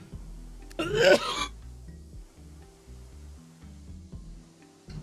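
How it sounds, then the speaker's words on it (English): A single harsh, throaty cough bursts out near the start, followed by low background murmur and quiet tones. "We have a big cough."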